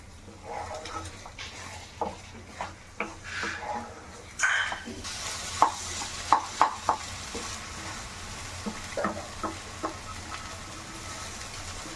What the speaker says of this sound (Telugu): ఇప్పుడు హై ఫ్లేమ్లో పెట్టుకొని తిప్పుతూనే ఉండాలి